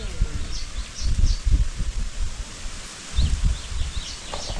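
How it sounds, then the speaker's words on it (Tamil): Wind gusts rustling through tree leaves outdoors, a steady breathy rush that swells in waves, with faint birds chirping at a distance and no talking. "அப்படி இருக்கும் பாருங்க காற்று எப்படி அடிக்குது."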